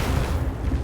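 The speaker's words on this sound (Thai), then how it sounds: "เฮ้ยระเบิด" Explosion in the Titanfall 2 video game, a heavy booming roar that fills the whole short moment, loud and close with a deep rumbling low end.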